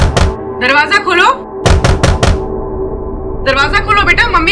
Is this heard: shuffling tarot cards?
no